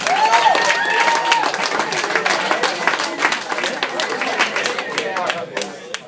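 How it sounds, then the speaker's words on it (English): Applause and scattered cheering from a comedy club audience as a stand-up comedian is introduced on stage, dense steady clapping under crowd chatter that carries on for several seconds. "So keep it going and start clapping right now for Mr. Ray Hollifield."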